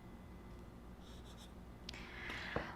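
A knife slicing through soft beignet dough made from a Café Du Monde mix, a few faint scraping cuts and a final sharper tap against the board, quiet and close with no talking.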